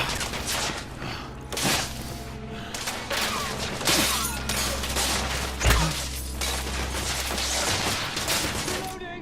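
Heavy, sustained gunfire from The Order 1886: dense volleys and crackling shots fill the whole stretch, with periodic heavier booms and voices shouting over the battle.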